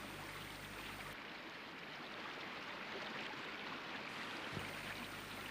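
Steady broadband rush of the flowing Ganges river, a continuous watery wash with no distinct splashes, evenly loud throughout and with no voices.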